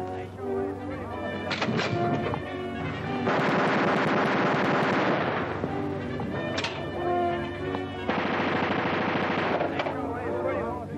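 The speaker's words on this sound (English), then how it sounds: "that's your gun" An aerial gun fires from an aircraft in long, loud bursts of rapid shots, broken by short pauses between the volleys.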